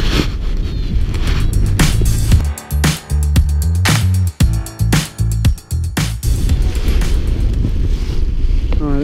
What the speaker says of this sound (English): Pretty windy on the ground